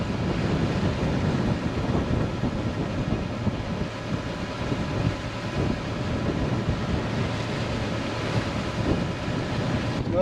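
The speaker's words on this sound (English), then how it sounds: "Hopefully y'all can hear me, it's a little windy" Wind buffets the microphone aboard a sailboat at sea on a crossing from Panama City Beach toward Port St. Joe, a constant rough roar with low gusting rumble and water wash beneath, close and steady, with no talking.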